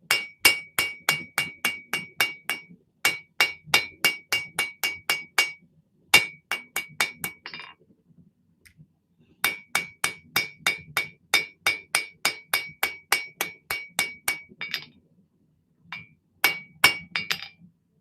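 A hammer forges metal in a home shop, striking in fast, bright, ringing bursts of about a dozen blows each. Short pauses separate the bursts, and the strikes are loud against an otherwise quiet background.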